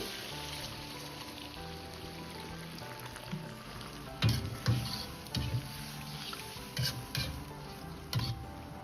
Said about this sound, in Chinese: 接着倒入多一些的开水